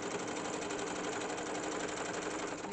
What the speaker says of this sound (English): I'm going to sew right on top of the trace line or just next to it